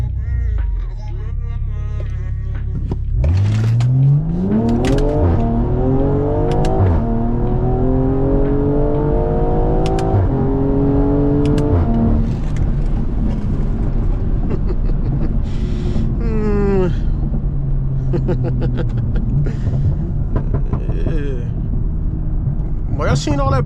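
A 500 hp BMW M340i launches hard from rest, its engine climbing through rising gears in repeated loud 0-60 pulls with shift breaks, close inside the cabin while people talk over it.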